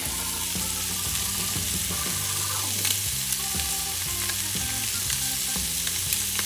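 Scallops sear loudly in a hot pan as garlic, including small chunks, goes in. A dense, steady sizzle carries through, with scraping and stirring clatter over it.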